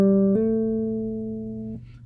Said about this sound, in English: So he's demonstrating a simple hammer on here.